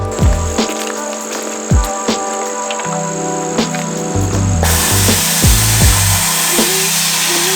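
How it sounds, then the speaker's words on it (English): Compressed air hisses out through the valve of a BMW F30 air suspension tank, a loud broadband rush starting midway after scattered clicks and mechanical taps, continuing steadily up close. "I can use this valve here to release the air a bit quicker"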